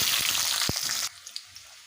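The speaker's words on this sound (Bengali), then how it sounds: "ফোড়নটা আমার খুব ভালোভাবে ভেজে নেওয়া হয়ে গেছে এবারে দিয়ে দেবো রসুন" Garlic going into hot oil with a tempering of whole cumin and dried chili for mutton kosha, a loud, close sizzle that lasts about a second before falling to near silence with faint crackles.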